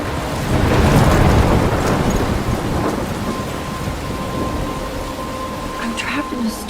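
A video game storm: heavy rain pours steadily while a deep rumble of thunder swells early, then settles into a continuous loud downpour.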